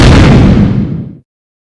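A loud, booming explosion with a deep rumbling body that decays over about a second before cutting off abruptly to silence.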